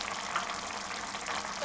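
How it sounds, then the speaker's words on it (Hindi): Mutton fries in a karahi on a stove over a medium flame, giving a steady, close, continuous sizzle with no pauses and no voices. "मटन को कढ़ाई में डाल के चूल्हे पे रख दिया है मीडियम फ्लेम पे।"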